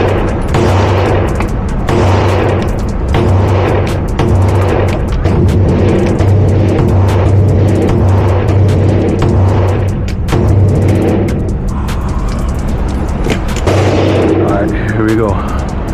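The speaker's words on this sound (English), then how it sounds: "This is Fiocchi 115, Glock 17." A Glock 17 pistol fires Fiocchi 115 grain rounds at a 10-yard range in a rapid, loud string of sharp shots, with other gunfire and echoes overlapping.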